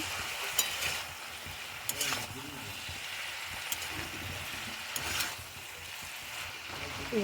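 Vegetables frying in a pan: a soft, steady sizzle with occasional stirring scrapes and clicks, close but fairly quiet, with a faint voice now and then underneath.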